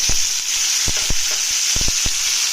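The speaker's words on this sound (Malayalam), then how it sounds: "അതിൻ്റെ കൂട്ടത്തിലൂടെ നമുക്ക് തക്കാളി ഇട്ട്" Close, continuous sizzle of tomatoes frying in a pan, with a few sharp pops and stirring knocks here and there, loud and steady with no voices.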